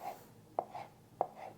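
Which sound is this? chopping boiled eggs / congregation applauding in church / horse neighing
chopping boiled eggs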